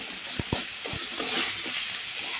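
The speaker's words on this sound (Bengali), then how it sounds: "মশলাটা সুন্দর করে কষে নিচ্ছে একদম তেল ধরে এসছে" Spice paste with chili powder, Kashmiri chili powder and turmeric sizzles in hot oil in a pan, with a steady frying hiss and a few soft scraping stirs near the start.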